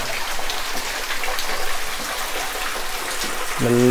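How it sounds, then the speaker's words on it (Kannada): Water trickles and drips steadily down a rock face at a hill station in Chitradurga, a close, continuous wet hiss; a brief tonal sound enters at the very end. "ನೋಡಿ ಬಂಡೆಯಲ್ಲಿ ನೀರು ಇಳಿತಾ ಇದೆ, ಹನಿ ಹನಿ ಹನಿ ಹನಿ ಹನಿ"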